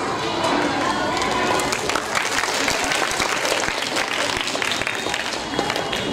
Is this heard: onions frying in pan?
no